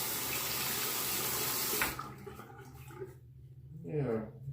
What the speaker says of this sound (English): Rinse time.